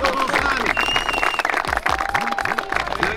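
Studio audience applauding at a televised game show, loud steady clapping mixed with crowd noise and a host's voice talking over it.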